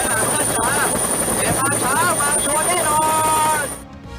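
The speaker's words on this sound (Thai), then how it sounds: "สั่งให้หน่วยทหารนำอากาศยานขึ้นบินปฏิบัติภารกิจกระจายเสียงประชาสัมพันธ์" A military helicopter drones steadily while an amplified voice broadcasts public announcements over it, the rotor noise continuous until it fades out at the end.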